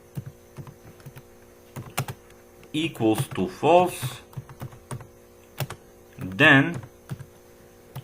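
Turbo Pascal code being typed on a computer keyboard, scattered close key clicks running throughout under a faint mains hum, while someone talks in between.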